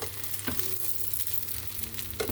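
Cheese amuse-bouche frying in a pan, giving a steady bright sizzle with a couple of brief clinks, close and continuous with no voices.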